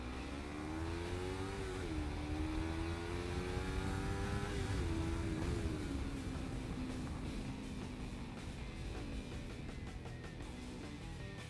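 A car engine revs hard and accelerates at night, its loud droning note climbing and dipping through gear changes before holding a steady roar, close and continuous with no talk.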